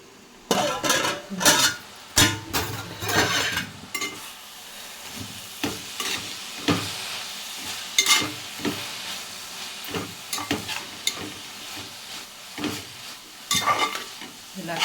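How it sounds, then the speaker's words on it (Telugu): Amaranth stem and chana dal curry with chilli powder and turmeric cooks in a pan, giving a soft steady sizzle broken by repeated close scrapes and clatters of stirring. "మూత పెట్టి సిమ్ములో ఉంచాలి"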